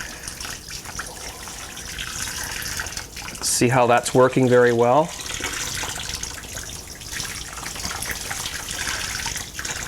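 Water is poured gently from a jug over malt grains during stovetop all-grain home brewing, giving a steady soft splash and trickle while someone briefly speaks in the middle.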